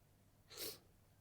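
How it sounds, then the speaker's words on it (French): A single close sneeze bursts out sharply in an otherwise quiet indoor room, then fades quickly back to near silence. "Je vais éternuer."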